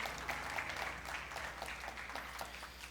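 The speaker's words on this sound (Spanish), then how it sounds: "Denle un fuerte aplauso a Radamés" A church congregation applauds, the clapping soft and somewhat distant over a steady low hum, continuing without a break across the stretch.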